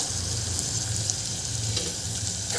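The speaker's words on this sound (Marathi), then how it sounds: "इथे मी 2 मिनटं वाटण छान भाजून घेतलेलं आहे, छान तळून घेतलं आहे. यामध्ये कांदा घालून घ्यायचा." Onion frying in roasted ground masala paste for a Maharashtrian green peas curry: a steady, close, continuous sizzle with a low bubbling undertone and no voices.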